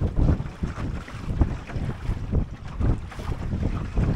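Drascombe Lugger sailboat cutting across the wind at roughly 80 to 90 degrees, giving a steady rush of wind buffeting the microphone with water swishing along the hull, continuous and loud without any voices.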